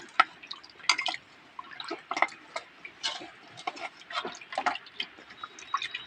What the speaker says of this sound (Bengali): আমার এই হাতটা দিয়েই আমি এটাকে ভালো করে মিশিয়ে নেবো জলের সাথে